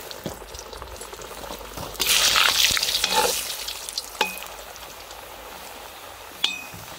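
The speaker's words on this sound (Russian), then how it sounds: "Сейчас будем картошку обжаривать." Potatoes frying in a kazan over a wood fire: a loud burst of sizzling begins partway through and fades into softer frying, with sharp metallic clinks of utensils against the pot.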